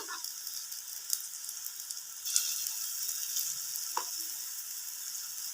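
Food frying in butter in a pan, giving a soft, continuous sizzle with faint crackles and a couple of light scraping or stirring clicks. No one speaks.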